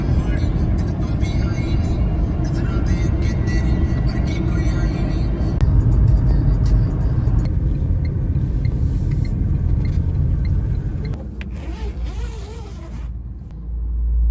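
Inside a Tata Tigor iCNG car cruising at about 85-90 km/h, a steady low road and engine rumble fills the cabin, with people talking over it.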